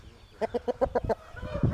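A hen and rooster clucking close by, a quick run of six or seven rhythmic clucks followed by lower, softer mutterings from the birds.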